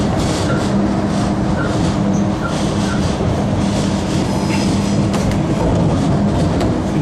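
A passenger train running on the Gawler rail line near Adelaide, heard from on board as a steady, loud rumble of wheels and rails with faint clicks and a thin squeal, continuous with no talk.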